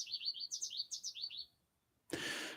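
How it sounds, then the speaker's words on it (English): Small birds chirp in a quick run of bright, repeated tweets for about a second and a half, then a short pause before a sudden broadband rush of noise cuts in. "The birds are so beautiful."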